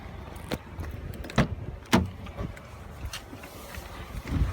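Someone getting into a car on a steep 16% road grade: a few sharp thumps and clicks of the door and handling, spaced irregularly over faint background noise, with no talking.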